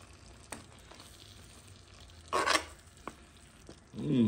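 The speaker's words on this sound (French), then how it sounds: "J'essaie de décroûter un peu le fond, hein, sans casser les poissons." A spoon scrapes and stirs the bottom of a pot of fish curry in short, faint bursts, with a louder scraping sweep midway and a sizzling rustle at the end.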